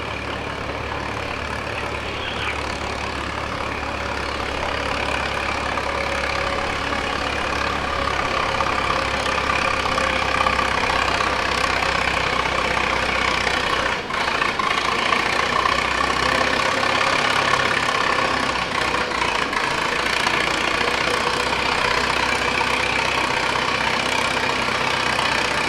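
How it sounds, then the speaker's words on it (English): Keck Gonerman antique tractor engine pulling at a vintage tractor pull, a steady, loud, heavy chugging drone that holds for nearly half a minute with outdoor crowd ambience and no clear talking. "He's running a Keck Gonerman tractor."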